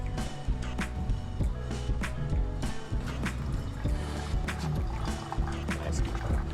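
Water poured over ground coffee in an Etkin 8-cup dripper for the second of three 250-gram pours, a soft close trickle and splash running steadily under clinking and faint background sounds.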